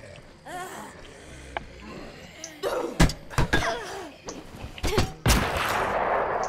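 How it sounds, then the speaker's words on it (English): Several sharp gunshots from the zombie survival game State of Decay as a zombie is shot, loud, close bangs spaced irregularly over faint game ambience, with a short burst near the end. "You just get close to a zombie? And he shoots him?"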